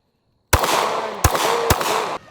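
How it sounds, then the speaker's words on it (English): Three sharp pistol shots from Glock Gen V and Gen 5 handguns crack out close and loud, spaced unevenly, each followed by a ringing echoing tail. "I am going to shoot them both real quick"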